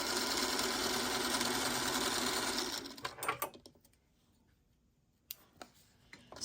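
Sewing machine stitching a quilt block seam, a fast steady mechanical whirr for a few seconds that stops abruptly, followed by scattered clicks and fabric handling close by.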